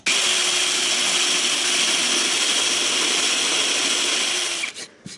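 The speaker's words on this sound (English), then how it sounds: "So you see how it drilled out the hole for the threads of the screw, and then it did the little countersink right there" A power drill with a countersink bit bores a screw hole, whining at a steady high pitch for about four and a half seconds before spinning down with a few short bursts.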